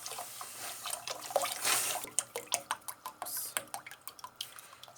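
Milk poured into a pot of simmering rice for Turkish rice pudding (sütlaç), a broadband liquid pour followed by a run of close, sharp drips and splashes; no voices.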